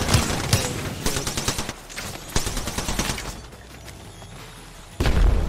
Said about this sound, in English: What is this guy shooting?